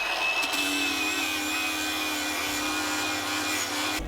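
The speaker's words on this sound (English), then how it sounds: "So with this flappy disc on the grinder, we'll take that bracket a little bit further back" Continuous high whine and rasp of an angle grinder with a flap disc grinding a rusty bracket on a Ford Escort RS Cosworth during restoration, steady and loud for the whole stretch, cutting off at the end.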